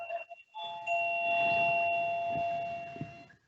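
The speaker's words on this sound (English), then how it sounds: "someone's doorbell is rung," A two-tone electronic doorbell chime rings out clearly with steady sustained tones, fairly close and alone, during a work induction held as a remote call.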